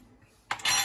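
A metal spoon presses and scrapes a hole into a baked pizza, a brief clink and scrape after a quiet start.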